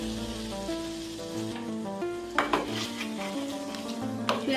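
Onions fry lightly in a pan with a soft sizzle and occasional stirring clinks and scrapes, all beneath steady background music.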